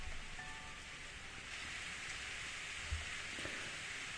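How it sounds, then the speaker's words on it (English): Steady rain falls in the Steins;Gate video game, a soft, even hiss of rainfall that holds at a constant level with no voices. "I suddenly hear the sound of rain"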